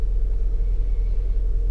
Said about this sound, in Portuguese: eu estou indo apenas guardar o carro na garagem